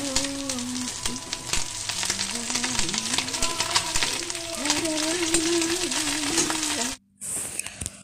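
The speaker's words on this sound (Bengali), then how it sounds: "ওই তেলেই কালো জিরে ফোড়ন দিয়ে দিলাম।" Black cumin seeds hit hot frying oil for a Bengali fish chorchori and crackle into a loud, dense, continuous sizzle with faint tonal hum beneath it, cut off abruptly near the end before briefly resuming.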